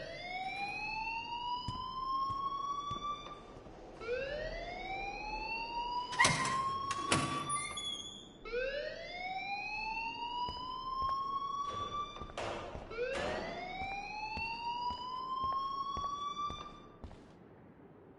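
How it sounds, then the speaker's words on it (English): A video game alarm wails in repeated rising electronic sweeps, four long cycles, loud and continuous, broken by a couple of sharp clanking hits partway through. "please turn off that alarm"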